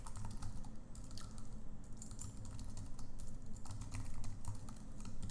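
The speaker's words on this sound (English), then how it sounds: "I'm going to type it in" Rapid, steady typing on a computer keyboard, dense clattering keystrokes close up with no talking.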